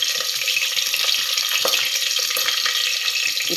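Green chili and garlic fry in oil in a pressure cooker for a tomato chutney, giving a steady, close hiss of sizzling with scattered crackles and pops and no talking.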